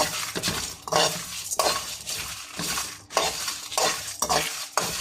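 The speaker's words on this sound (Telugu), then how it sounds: "ఇప్పుడు దీన్ని దోరగా వేయించుకుందాము. దీన్ని కొంచెం దోరగా వేయించుకోండి." Food fries on high flame in a pan while being stirred for chicken kabsa biryani. A loud sizzle swells with each scrape of the spoon in a repeating rhythm, and no one speaks.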